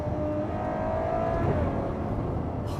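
A Ferrari 812 Superfast V12 engine drones steadily on the road in the Italian countryside, a continuous low rumble with a rising whine that shifts about halfway through. The sound is heard from inside the car, with no talk.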